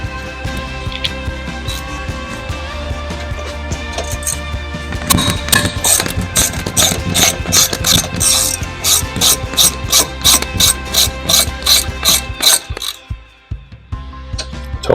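Ratchet clicking as a 6mm Allen key turns the brake caliper bolts on a Citroen Relay, a long run of steady, close, rapid metallic clicks that speeds into evenly spaced ticks before stopping.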